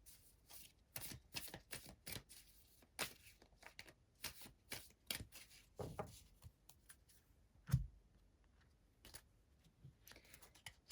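Psychic cards are shuffled by hand in a steady run of soft, quick riffling slaps, close and fairly quiet, with one firmer tap near the end.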